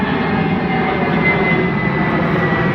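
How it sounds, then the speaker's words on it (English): Loud, steady drone of an airplane passing overhead on a July afternoon by a big lake, a continuous broadband roar holding even for the whole stretch with no voices. "It's the middle of the afternoon, so that's why the planes are loud and constant."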